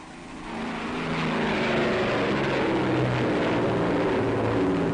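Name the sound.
Avro Lancaster bombers racing along the runway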